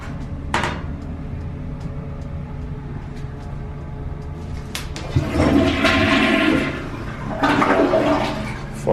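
A newly renovated bathroom toilet flushing, a loud close rush of water that starts abruptly mid-clip and swirls on, preceded by a faint click and quiet room tone.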